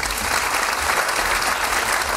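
A group applauds their teacher Cengiz at a student event, a loud, dense, even wash of clapping from many people that holds steady throughout.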